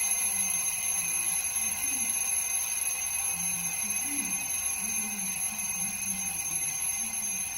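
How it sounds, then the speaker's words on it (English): A high electronic alarm clock rings steadily and insistently, with faint chirping sounds underneath. "The alarm's going off."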